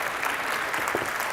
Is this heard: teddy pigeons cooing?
no